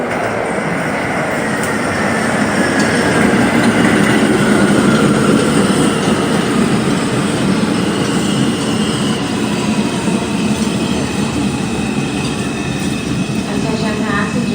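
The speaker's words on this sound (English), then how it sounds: "There is a Manhattan-bound 2 train to South Ferry. Approaching the station, please stand" An R142 subway train on the 2 line arrives at Gun Hill Road station with a loud, sustained rumble, steady wheel noise and rising squeal, while a platform announcement plays over it.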